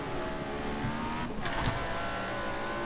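Race car engine noise from inside a small 2-litre car being chased by a V8, a continuous loud droning roar with a brief higher surge midway.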